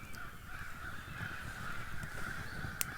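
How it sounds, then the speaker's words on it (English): A large flock of crows caws from trees at a camping spot, a continuous far-off chorus of overlapping calls, fairly faint against the outdoor background. "You hear those crows? It's like a giant flock of them over in the trees over there, and they are freaking loud."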